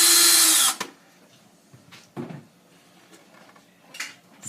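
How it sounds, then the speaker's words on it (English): A power drill whirs in a short loud burst against a plastic stormtrooper helmet to mark holes, then stops, followed by quiet handling clicks and taps. "So I just put a little drill mark where those 2 are going to be drilled."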